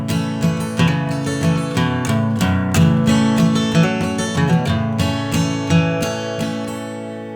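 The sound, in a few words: acoustic guitar intro of a song played with a pick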